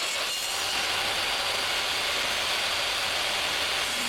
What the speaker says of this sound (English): I'm cutting 1/8 inch walnut strips here, which will be used for the decorative inlays